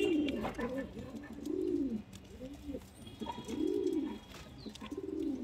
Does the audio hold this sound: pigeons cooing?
yes